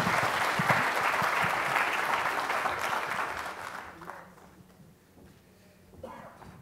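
An audience at a charity summit lecture applauds loudly and steadily for the first few seconds, then the clapping thins and fades out, with a brief swell again near the end.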